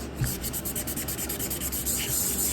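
Sandpaper rubs back and forth over Bondo body filler on a car panel, feathering an edge down in quick, even rasping strokes with a steady rhythm and no talk.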